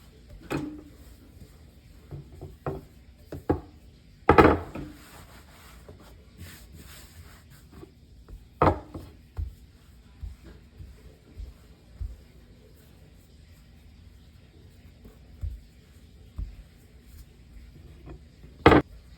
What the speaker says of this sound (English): I'm just picking up some of this flour as I'm rolling it.